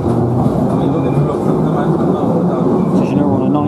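London Underground Bakerloo line 1972 Mark II stock train running southbound between Paddington and Waterloo, a steady loud rumble and roar of the carriage in motion throughout, with faint passenger voices underneath.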